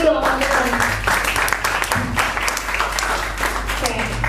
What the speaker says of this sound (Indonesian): Oke, tepuk tangan dulu dong, teman-teman.